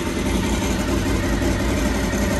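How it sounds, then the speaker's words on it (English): A motorcycle with a freshly installed carburetor runs steadily, loud and close, with a continuous low engine drone and no pauses. "So I'm going to fire the bike up."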